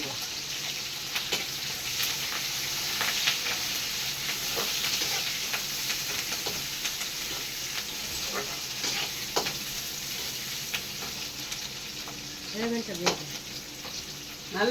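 Onions cooking in a pan for a village-style fish kootu, a steady moderate sizzle of oil punctuated by intermittent scrapes and stirring clinks, heard up close with no talking.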